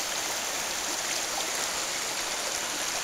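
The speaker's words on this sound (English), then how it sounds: "The river is down significantly" A river running low in the Cranberry Wilderness gives a steady, hissing rush of flowing water, close and even from start to finish with no voices.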